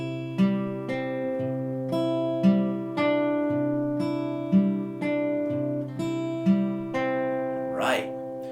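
Fingerpicked acoustic guitar playing a Travis-pick intro phrase, slow and steady with an alternating thumb bass under plucked treble notes, heard close and alone, ending with a brief scrape.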